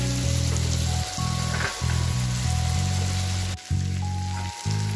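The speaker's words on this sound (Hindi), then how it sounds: "अभी टमाटर जो है वो मेल्ट पूरे अच्छे से पक रहा है" Tomatoes frying and melting down in a pan for pav bhaji give a steady, close sizzle that runs through with brief dips, no voices over it.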